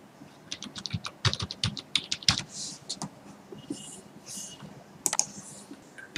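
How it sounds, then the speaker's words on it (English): Quick, uneven keystrokes clatter on a computer keyboard, close and fairly crisp, with brief pauses between runs of typing and no voices. "type that name."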